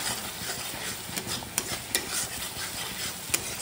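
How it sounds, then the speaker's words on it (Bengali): Bengali spice mix being fried and stirred in a pan, a dense continuous sizzle with a few sharp scraping strokes of the spoon, close and steady, with no speech. "এই যে মশলাটা কষাবো"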